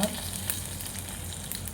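Turmeric goes into hot oil with cumin and curry leaves for a kadhi tempering, giving a close, even sizzling hiss with faint crackles throughout, no voices.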